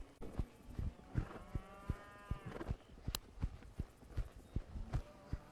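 Cattle moo repeatedly as a rider on horseback herds them, with long lowing calls rising over clip-clopping hooves and footsteps close by.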